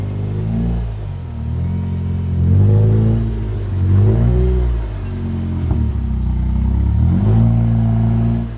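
A Honda EK hatchback with a K24 engine and RBC intake revs while backing up, its rumbling exhaust rising and falling in several swells, close and loud, with no voices.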